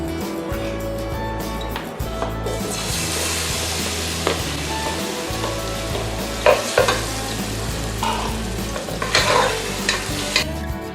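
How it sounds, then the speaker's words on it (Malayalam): Nendran banana pieces sautéed in ghee, giving a dense continuous sizzle under frequent stirring scrapes and clinks of the spoon against the pan, close and fairly loud, without voices. "ഇനി ആ നെയ്യിൽ തന്നെ നേന്ത്രപ്പഴം ഇട്ട് ഒന്ന് പരട്ടിയെടുക്കാം."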